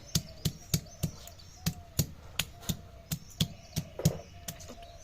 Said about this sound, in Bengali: এবার আদাটা আমি বেটে নিচ্ছি